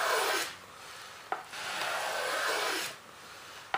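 Balsa wood being sanded by hand on model F-18 flaps: a few long, soft rasping strokes with brief pauses between them, close and quiet.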